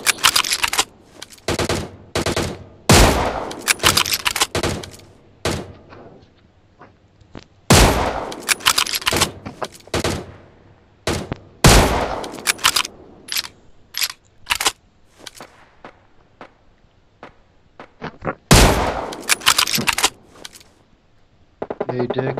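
Gunfire in the mobile shooter BGMI: sharp, loud bursts of automatic fire and single shots crack out in clusters with short quiet gaps, close and punchy, while players talk between volleys.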